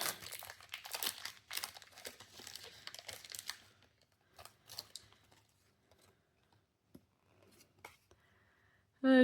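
A Pokémon card booster pack crinkles and tears open in close, busy bursts of crackling foil, which thin into sparse rustles and then near silence.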